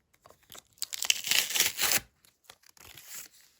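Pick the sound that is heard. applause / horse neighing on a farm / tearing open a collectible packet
tearing open a collectible packet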